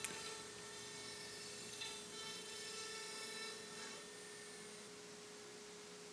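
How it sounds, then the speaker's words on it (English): A CNC router cuts half-inch-deep V-carve pockets into wood panels for a bassinet, giving a steady high-pitched whine with many tonal harmonics that holds evenly and fades slightly toward the end. "I cut the pockets out using a V-carve tool path"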